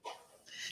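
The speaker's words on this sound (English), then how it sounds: "Hopefully mine doesn't start barking at nothing here soon." A dog gives two short, soft barks or yips, brief and somewhat distant, with a slight pause between them.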